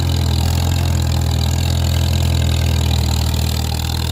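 Antique farm tractor engine running steadily through deep snow, a loud, close, continuous low chugging rumble with no talk.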